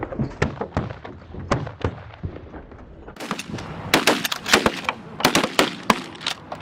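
Shotgun blasts during a goose hunt, a rapid volley of loud, sharp shots from several guns in the open, sparse at first then clustering thickly, close and punchy.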